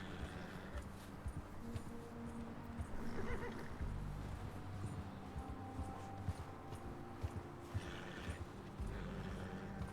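A horse in Red Dead Redemption 2 in cold weather gives a neigh and a few hoof clops beneath a dense, busy game soundscape of low rumble and ambient noise, fairly faint overall.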